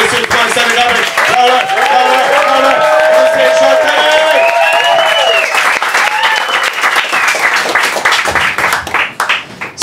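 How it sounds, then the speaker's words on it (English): A comedy club crowd on a Sunday night breaks into loud applause with whoops and cheering voices over dense clapping, close and sustained before tapering off near the end. "you're just waiting for applause, aren't you?"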